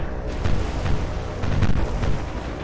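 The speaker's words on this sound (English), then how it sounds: "My goodness, the amount of gunfire." In the naval battle game War on the Sea, set at Guadalcanal, dense, booming bursts of heavy gunfire and explosions roll together into a continuous loud rumble, with no clear gaps between shots.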